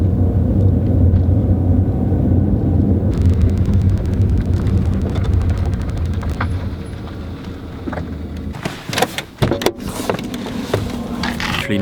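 A car drives on a summer evening, its engine and road noise forming a steady low rumble up close, easing slightly before a few sharp knocks and thumps near the end; no voices.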